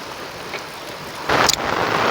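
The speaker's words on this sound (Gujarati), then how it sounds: "અત્યારે પાણી તો ઘા કરે જાય છે સીધું" Floodwater surges past after torrential rain near a village embankment and dam, a steady windy rush that swells louder and broader midway, with no talking.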